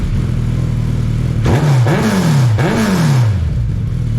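A 2015 Suzuki Hayabusa motorcycle with a modified exhaust idles with a steady low burble, then is revved in two or three sharp blips that climb and fall away, loud and close with no talking.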